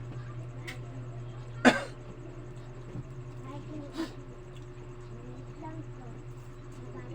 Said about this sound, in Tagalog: May ubo